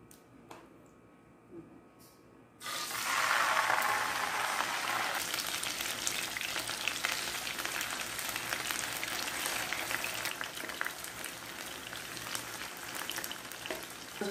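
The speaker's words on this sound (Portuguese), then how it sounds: "Vou deixar aqui fritar o fígado" Liver frying in a home kitchen pan bursts into a loud, steady sizzle after a quiet opening few seconds, then crackles on evenly without a break.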